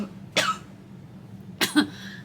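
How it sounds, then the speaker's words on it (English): Two separate coughs from a nearby speaker, each a short harsh burst, about a second apart in a quiet room with no talk. "I'm going to have to cough, and I can't edit this out,"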